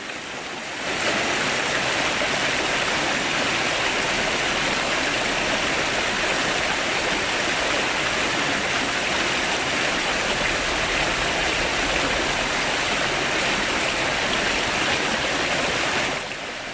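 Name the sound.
stream flowing through a ravine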